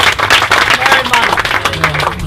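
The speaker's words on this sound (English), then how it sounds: "A round of applause for our panelists" An audience at a panel discussion on Hawaiian song compositions applauds the panelists, with dense, loud clapping from a crowd sustained throughout and a voice faintly underneath.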